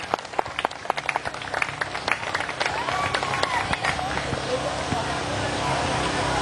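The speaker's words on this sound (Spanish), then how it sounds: "Fuerte aplauso para él también." A crowd at a youth baseball awards ceremony breaks into brisk, scattered clapping that swells into a steady wash of applause.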